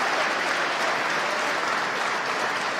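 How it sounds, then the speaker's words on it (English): The SpaceX team applauding in Mission Control during a launch, a dense, even wash of clapping from many people, steady and continuous throughout. "You can hear the applause in the background from the SpaceX team gathered around the Mission Control"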